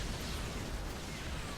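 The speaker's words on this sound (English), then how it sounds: "Yamato cannons being dumped on" Yamato cannon fire from Terran Battlecruisers in a StarCraft II TvZ match, heard as a dense, steady roar of blasts and rumble with no separate shots standing out, loud throughout.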